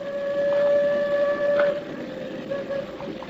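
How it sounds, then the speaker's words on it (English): Radio drama sound effect of an approaching train in a canyon, a sustained whistle tone sounding over a low rumbling rail noise that eases off toward the end. "The train's almost here. No, not quite, Angel. You can hear it a long way in these canyons."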